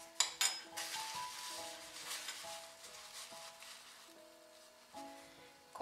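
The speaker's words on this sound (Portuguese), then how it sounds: "Na frigideira eu vou colocar um pouquinho, uma pontinha de manteiga" A small knob of butter hits a hot frying pan for American pancakes: a couple of sharp metallic clanks, then a faint, soft sizzle under quiet background music.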